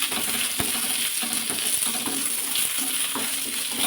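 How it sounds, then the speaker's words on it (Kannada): Onions frying in oil in a pan for curry leaf chutney, a steady close crackling sizzle with occasional stirring scrapes and light clicks, no voices. "ಇದನ್ನು ಚೆನ್ನಾಗಿ ಫ್ರೈ ಮಾಡ್ಕೋಬೇಕು."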